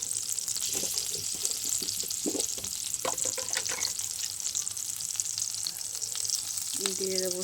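Fried amudi fish sizzling in a pan with green chilies and crushed garlic for a helencha greens curry, a steady close crackling fry with a few clinks of stirring and no talk.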